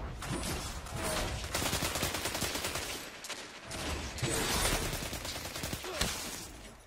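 A 600 rpm auto rifle in Destiny 2 fires long rapid bursts of dense, evenly spaced gunshots, loud and close, with one short pause midway and no one talking.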